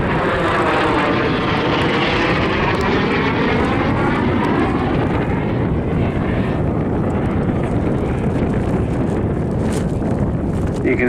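Saab J-29 Tunnan jet flying at Southport Airshow 2019: a loud, continuous roaring engine rush with a sweeping pitch as the jet passes, buffeted by wind noise.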